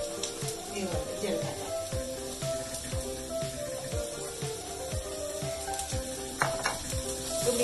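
Mustard seeds and cumin sizzle and crackle in hot oil for a prawn and okra curry, with a steady fry punctuated by sharp pops and stirring clatter, while a voice talks over it.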